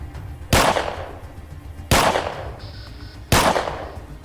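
Three evenly spaced pistol shots on a steel target in the game ATOM RPG, each a loud, sharp crack with a short ringing decay, about 1.4 seconds apart, with no speech.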